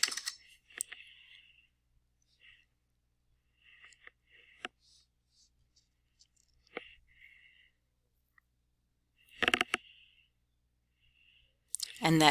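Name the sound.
typing on a computer keyboard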